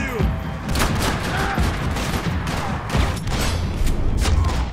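Dense, sustained gunfire from the video game Max Payne 3: rapid overlapping shots and booms crackling continuously throughout, loud and close, with no clear pauses.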